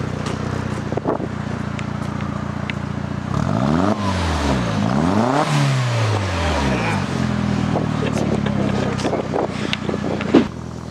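VW Jetta MK4 1.8T with a new exhaust revving, a steady idle rumble broken by several sweeping rises and falls in pitch, loud and close, then settling back to idle.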